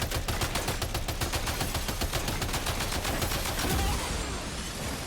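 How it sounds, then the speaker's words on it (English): Heavy machine gun fire in the video game Death Stranding 2, a loud, rapid, evenly spaced burst of shots sustained for several seconds before tapering off, with no talking. "I'm gonna machine gun him."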